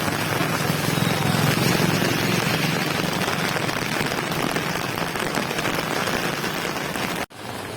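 Heavy rain pours down around an umbrella, a dense, loud, continuous roar of drops drumming close by, cutting out abruptly near the end before resuming slightly quieter.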